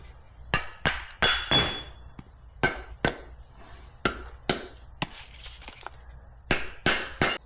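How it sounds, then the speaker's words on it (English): Seized rear brake pads on a 2005-2012 Acura RL being knocked loose with a rubber mallet: about fourteen sharp, close taps in irregular clusters, each a dull thud with a brief ring, with no talking. "I'm gonna have to tap them with a rubber mallet"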